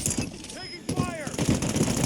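Bursts of gunfire in a Call of Duty MW3 multiplayer match, repeated shots crackling over a busy game soundscape with faint radio chatter and whistling effects mixed in.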